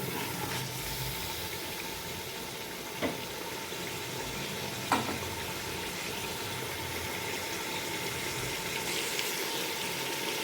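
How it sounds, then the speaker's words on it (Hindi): Degi chicken pulao ingredients fry in a pot with a soft, steady sizzling hiss. It stays quiet throughout, with a couple of faint utensil taps and no talking. "अब हम अच्छे से इसको भूनेंगे।"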